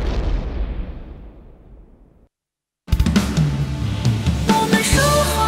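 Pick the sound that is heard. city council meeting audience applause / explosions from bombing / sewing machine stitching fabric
explosions from bombing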